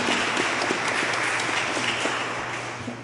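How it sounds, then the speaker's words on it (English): Church congregation applauding at a Lutheran service, a steady wash of many hands clapping that holds evenly and eases slightly toward the end, with no voices over it. "let's give everybody a round of applause and thank you"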